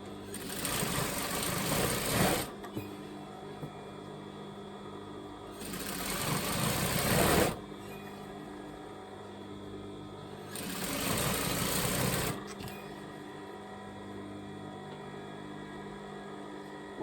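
An overlocker stitches the hem of a top in three fast, whirring bursts of a few seconds each, separated by quieter pauses with a faint background hum.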